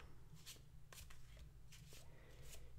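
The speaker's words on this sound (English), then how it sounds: "let's give it a good shuffle" Tarot cards are shuffled softly and close up in a quiet room for ASMR, a series of brief papery riffles and slides with no talk.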